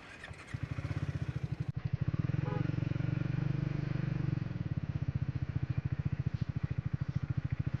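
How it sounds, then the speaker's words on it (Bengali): Vehicles and motorbikes climbing a steep, rough off-road mountain track in heavy traffic, a loud, close engine drone with a rapid pulsing throb and some clatter, fairly steady throughout. "প্রচুর গাড়ি আসছে, বেরোতে হবে।"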